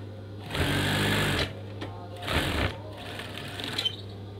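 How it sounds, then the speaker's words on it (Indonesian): A sewing machine stitches fabric for a screen curtain in two distinct whirring runs, the first longer and the second shorter, with a low steady hum between them. "Terus kita jahit."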